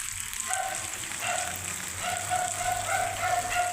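Sunday rain falls steadily in Itaitinga, Ceará, pattering on surfaces as an even, moderately loud wash, with a faint tone and low hum in the background and no talking.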